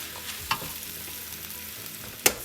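Egg fried rice with egg and carrot crackles softly in a pan as it is stirred, a low steady sizzle broken by two sharp scraping clacks of a utensil against the pan, close by and without speech.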